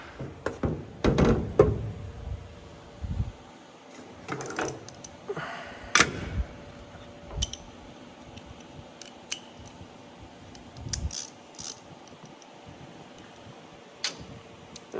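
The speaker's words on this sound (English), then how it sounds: "It would help if I tightened up the tensioners." Belt tensioners on a combine harvester are being tightened: sharp metallic clicks, ticks and knocks come at an irregular pace, up close, with a low mechanical hum underneath.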